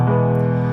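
A sustained harmonic chord rings steadily at moderate volume, a smooth backing pad with no voices or percussion.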